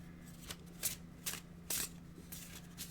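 Oracle cards being shuffled by hand, a few soft papery riffles and slides at close range over a steady low hum, with no talking.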